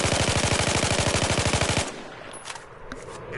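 AK-5C carbine firing full-auto on a Battlefield 4 shooting range, a fast, evenly spaced burst of loud shots for about two seconds, then abruptly stopping into quiet room tone with faint clicks.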